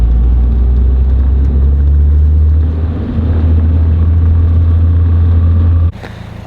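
A Nissan Silvia rolling along slowly, its low steady engine rumble and road drone loud and close throughout before dropping off near the end.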